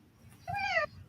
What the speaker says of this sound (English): Did I hear a cat too?